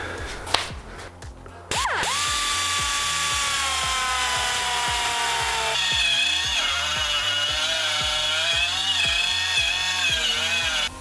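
A power drill bores into a cracked cast aluminum bell housing from a Nissan G37 rebuild. After a few brief knocks, the loud motor whine runs continuously at close range and shifts pitch partway through.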